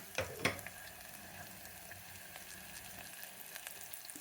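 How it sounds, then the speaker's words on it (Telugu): Salt frying in hot oil in a pan while cooking dalcha with chana dal and bottle gourd, a soft continuous sizzle opening with a couple of sharp clatters, faint and close. "ఉప్పు వేస్తే అది తెలుసు కదా, ఉప్పు తొందరగా వేగుతుందని"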